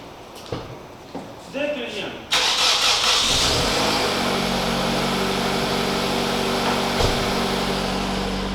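A Nissan Almera engine cranks briefly and catches, then settles into a steady running idle that continues to the end, with a short voice and clunks heard before the start.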